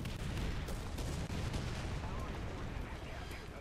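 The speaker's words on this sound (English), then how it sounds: "Basically hitting myself with artillery here." Artillery shells land nearby in the War Thunder video game, a dense, faint rumbling barrage of booms running throughout.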